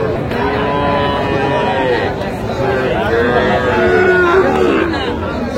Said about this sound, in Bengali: ষাঁড় বাচ্চা আমরা দেখছিলাম এখানে, সুন্দর বাচ্চা শাহিওয়ালার